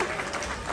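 A crowd claps steadily at a lavish Ijaw traditional wedding in Port Harcourt, Nigeria, producing a dense, continuous wash of applause with faint voices mixed in.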